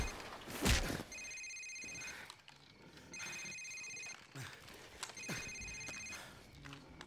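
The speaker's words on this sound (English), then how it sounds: "Sir, it's his cell phone." Cell phone ringing in the Call of Duty Modern Warfare campaign: a repeating electronic ring in three evenly spaced bursts, with a short voice line and game sounds at the start.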